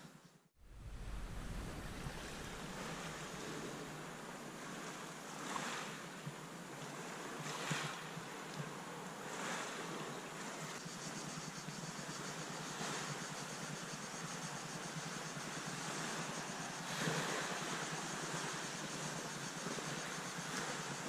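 Sea waves wash steadily against an Adriatic coast campsite at dusk, a continuous broadband surf with gentle swells and some wind rumble, close by and alone without voices.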